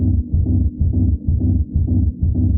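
A techno rumble bass synth pulses in a steady, rapid rhythm, with loud, deep throbbing hits that carry no high end.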